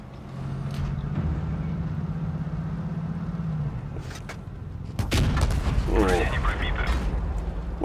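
A tank cannon fires in World of Tanks Blitz, an Object 268 Version 4 in play: a low engine drone runs underneath, then a sharp, loud blast near the midpoint, followed by rumbling mechanical clatter.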